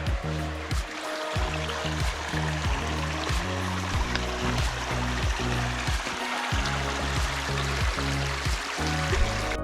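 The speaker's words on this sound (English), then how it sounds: "You can hear the creek up here." Deer Creek flows and trickles steadily close by, with a continuous watery babble and a faint low hum beneath it.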